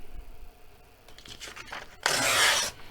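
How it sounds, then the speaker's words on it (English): Paper sheet torn along a ruler edge: quiet handling and light rustling, then one loud, sustained ripping tear near the end, no talking. "Just put my ruler on there, line up my numbers, and give it a tear."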